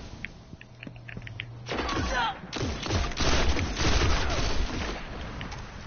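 Gunfire in the video game Destiny, heard as a burst of loud rapid shots that starts partway through and carries on to the end, with a faint beeping game tone beforehand.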